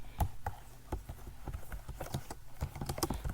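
Someone types on a computer keyboard while entering database schema code, making quiet, uneven, rapid key clicks close by with no talking.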